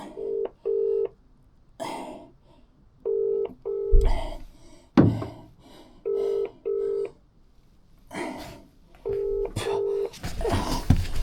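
A phone call being placed: clipped bursts of dial tones repeating in pairs, separated by coughing and throat clearing, then a rush of noise near the end.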